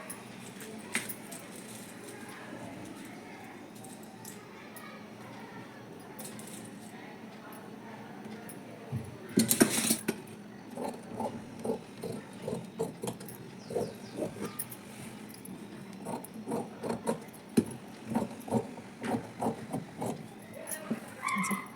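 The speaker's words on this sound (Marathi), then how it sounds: "ते कट मारून आता पाठीमागचा मुंडा कट झाला" Scissors snipping through frock fabric to cut the back neckline: a run of quick, crisp clicks that starts after a muffled thump midway and continues in short clusters, close by, with talking underneath.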